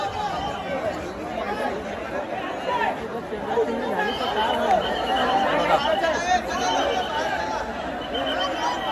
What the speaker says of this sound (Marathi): गर्दी बघा किती आहे.